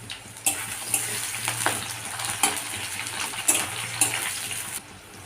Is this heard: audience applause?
no